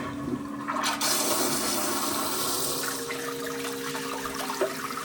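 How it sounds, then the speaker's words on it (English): A HOROW T38 smart toilet flushes when triggered from its remote, giving a strong rushing surge of water that settles into a steady refill hiss over several seconds, close up with no speech. "You can also flush the toilet from the remote."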